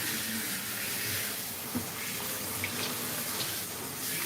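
Running water pours steadily over a long-haired British cat during a bath, a continuous splashing gush like a faucet or sprayer, with a few faint knocks and no talking.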